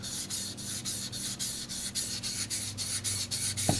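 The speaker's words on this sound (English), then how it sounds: "so I'm going to start by thinning" Tojiro kitchen knife blade stroked back and forth on a sharpening stone to thin the grind, a steady rhythmic rasping scrape repeating about every third of a second, close and alone.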